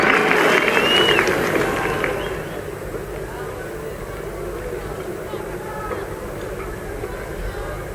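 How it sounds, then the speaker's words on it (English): A Test match cricket crowd at the 1981 Ashes applauds Geoffrey Boycott's return from the outfield, a loud warm clapping that fades into a murmuring crowd while a commentator talks over it. "The applause was for Geoffrey Boycott's return from the outfield."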